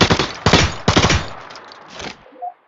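Gunfire in the video game Lost Light: a few separate heavy shots spaced about half a second apart, punchy and close, followed by a fading tail and a faint ring.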